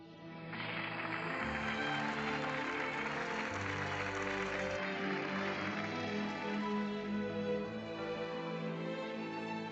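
Steady applause from an audience at a celebratory gathering, a dense, continuous patter of clapping that swells quickly and holds at an even, fairly loud level for several seconds without talk.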